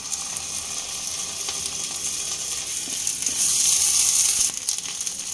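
Onions and chopped green chillies fry and get stirred in a pan for masala chola bhuna, giving a steady bright sizzle that grows louder and fuller near the end, with no voices.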